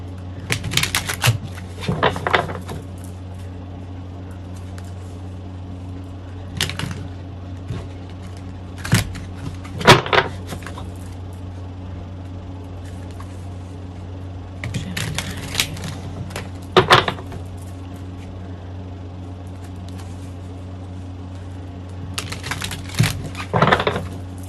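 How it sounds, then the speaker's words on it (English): Tarot cards being shuffled in several brisk clusters of crisp, fluttering riffles and taps, spaced apart by quiet stretches over a steady low hum, close to the listener. "Going to shuffle one more time and then we'll dive into the reading"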